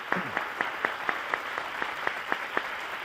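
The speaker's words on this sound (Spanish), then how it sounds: "¡Un aplauso!" Studio audience applause on a Spanish television quiz show, heard as an even, steady run of claps at a moderate distance, with no talking over it.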